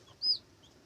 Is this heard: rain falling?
no